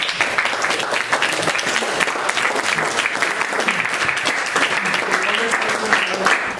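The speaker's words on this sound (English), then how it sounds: "So big applause to Dr. Divesh Anand." An audience at a Kashmir-themed arts festival in London claps in sustained, dense applause that holds at an even level for several seconds.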